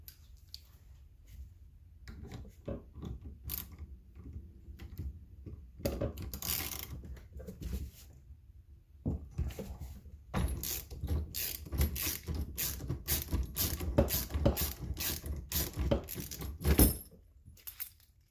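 A bolt screwed in by hand during a 1977 Chevy Camaro restoration near the steering column, heard as quiet uneven bursts of metallic ratcheting and clicking, with faint tool clinks between them, close and otherwise still.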